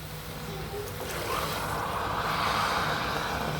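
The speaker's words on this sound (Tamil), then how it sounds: "இப்போ தண்ணி ஊற்றிக்கலாம்." Water pours into a cooking pot while carrot rice is being made, a rushing splash that starts about a third of the way in and continues steadily to the end.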